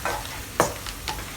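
Salted egg yolk powder being stirred and slow-fried in a pan, a soft steady sizzle broken by a few short scraping strokes of the spatula, close and moderately quiet.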